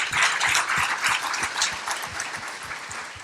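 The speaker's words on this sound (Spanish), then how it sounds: "¿Por qué no les damos un aplauso?" Audience applause at a church service, a dense sustained clapping from a crowd that stays loud throughout with sharp individual claps standing out near the listener.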